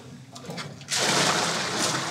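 On a fishing boat, a bucket of water is tipped out and refilled: a short gurgle gives way to a loud, sustained splashing rush of water close by.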